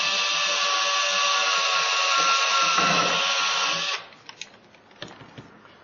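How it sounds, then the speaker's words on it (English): A cordless drill whirs steadily and loudly for about four seconds while working on a model railroad landscape, then stops, followed by scattered light handling clicks. "hooray for cordless drills."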